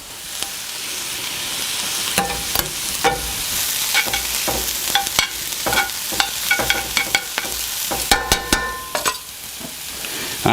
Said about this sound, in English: Let's get our garlic put into this